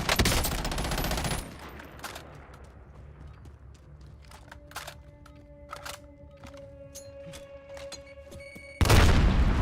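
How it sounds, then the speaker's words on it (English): Grenade explosions and gunfire in the Warzone video game arrive as heavy, loud blasts at the start and end, with quieter scattered shots and mechanical clicks between them. "We're trading grenades"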